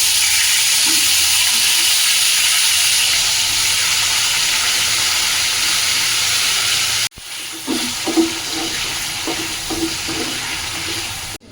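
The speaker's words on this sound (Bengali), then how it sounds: "এবার আমি ভাজছি আলুটা" Potatoes frying in mustard oil in a pan give a loud, steady sizzling hiss for about seven seconds. Then the sound cuts abruptly to softer sizzling broken by light knocks and clatter.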